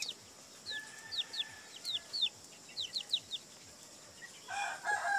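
Sasso and native chickens making repeated short clucks and chirpy calls in an uneven rhythm, close by, with a louder burst of calling at the end and no speech.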